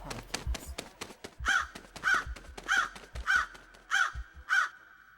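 A crow caws six times at an even pace as a podcast intro effect, each call loud and close, with low thumps between them and no voices.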